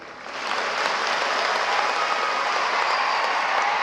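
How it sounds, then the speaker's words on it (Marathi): Dense audience applause at a Marathi public speech, starting softer and swelling into steady, sustained clapping from a large crowd. "आणि एकदा टाळ्या होद्या मग ह्यासाठी"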